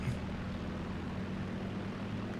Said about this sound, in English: Whoa, a lot of planes up.